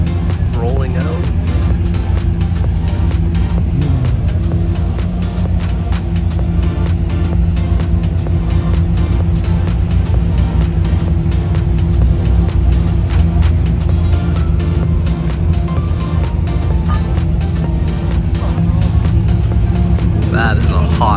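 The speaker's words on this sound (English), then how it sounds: "Matte black F8 rolling out." Matte black Ferrari F8 sports car pulling away from a rally start line, its engine a loud continuous drone mixed with crowd noise and nearby chatter.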